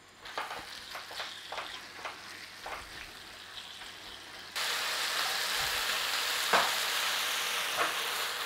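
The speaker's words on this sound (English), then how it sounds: "we're going to start stir frying it for colour" Seasoned chicken stir fries in a pan, first with scattered tapping and clatter of stirring, then a loud steady sizzle takes over with occasional scrapes.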